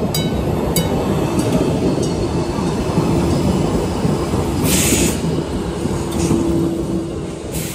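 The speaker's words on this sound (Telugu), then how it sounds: "మెట్రో వస్తుంది యాక్చువల్లీ." A metro train rolls into a station with a broad, steady rumble of wheels on rail, loud and close, with a few brief higher squeals and hisses along the way.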